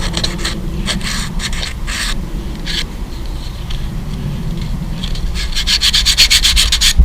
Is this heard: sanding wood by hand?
yes